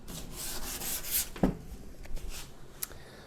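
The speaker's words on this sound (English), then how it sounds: "So we've got my 80 grit, and I'm just going to get to town on it." 80-grit sandpaper is rubbed by hand over the body panel of a 1967 Ford F250 Camper Special, giving close, quiet rasping strokes in an irregular rhythm with one sharper knock near the middle and no talk.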